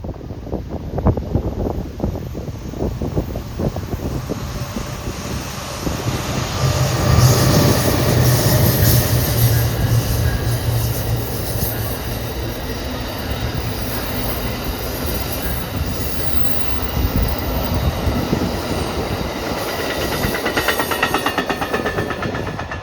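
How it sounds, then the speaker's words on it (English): Amtrak 7 passenger train rounding a curve near an abandoned crossing off the Burdick Expressway, heading west out of Minot, passes close by with a steady rumble of rolling cars, clattering wheels and some squeal, wind blowing throughout. "Amtrak 7, as it rounds the curve near an abandoned crossing off the Burdick Expressway, heading west out of Minot"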